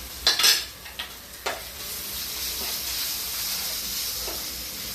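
Gooseberry rice with turmeric stirred in a hot pan: a steady sizzle and hiss with a few scraping strokes of the spoon near the start.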